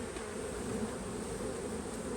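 Honey bees crowd a hive frame, giving a steady, close, dense buzzing hum that holds evenly throughout with no talk.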